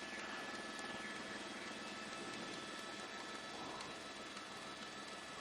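A police helicopter hovers overhead during a car chase, a steady, faint rotor drone with a continuous whine and no talking.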